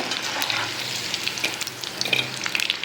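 Mango pieces frying in oil for a fried mango pickle, giving a steady close sizzle with crackling pops and a few light scraping sounds.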